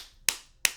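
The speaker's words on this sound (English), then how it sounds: "See, if I clap, my mouth opens." Two sharp hand claps about a third of a second apart, crisp and close, with no other sound between them.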